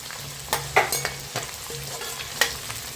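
Curry leaves and garlic sizzle in hot oil for a Kerala-style fish moilee while a spoon stirs them, a steady close fry broken by a few sharp scraping clinks against the pan.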